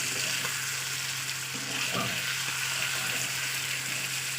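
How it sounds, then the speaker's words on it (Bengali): Food being stirred and sautéed in a cooking pan, a steady close sizzle with a continuous low hum and a brief scraping stir partway through, no voices. "তো এইভাবে আমার পাঁচ মিনিট নাড়া হয়ে গেছে পাঁচ সাত মিনিট মতো কষিয়েছি"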